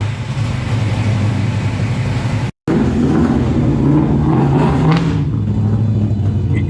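A car engine revs loudly with a raspy exhaust note, holding a steady low rumble before climbing again after a brief break, heard up close with no talking.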